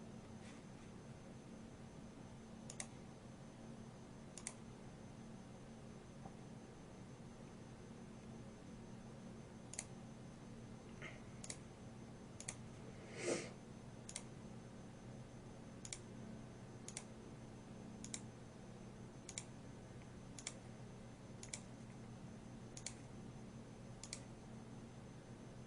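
A computer mouse clicks in a quiet room: about a dozen faint, sharp clicks come singly at irregular intervals, with a low steady hum underneath.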